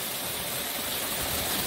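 A waterfall flows beneath a sheet of ice on a winter hike, giving a steady, dense rush of running water that stays even and unbroken throughout.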